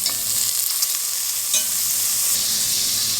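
Olive oil and a little butter heating in a Dutch oven over medium-low heat, giving a steady, bright sizzle close by with a faint tap or two, no speech.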